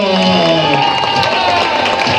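Comedy club audience cheering and clapping for an improv troupe, a dense continuous roar of applause and shouts with voices rising over it, loud and close.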